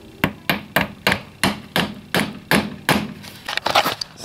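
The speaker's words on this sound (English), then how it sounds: "So let's probably have to hammer these in." Solid aluminum bushings, replacing rubber ones, are driven into place with a hammer: about a dozen sharp, close metallic strikes at a steady pace, speeding into quicker taps near the end.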